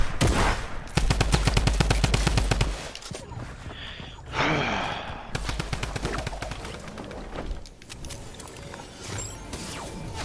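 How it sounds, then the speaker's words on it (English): Gunfire from several shooters in a video game: long rapid automatic bursts crack out loud, pause for scattered shots and clatter, then another sustained burst, close and dense, with no talking. "how many people are shooting at me?"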